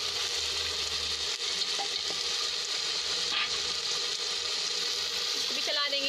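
Ground red chilli powder fries in a pan while being stirred for a masoor dal and rice dish, giving a continuous close sizzle with brief scraping and clinking sounds near the end.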